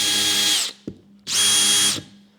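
DeWalt 18V brushless combi drill revved twice in short bursts, a high whirring motor whine spinning up and winding down, with a brief click between the two runs, close and loud.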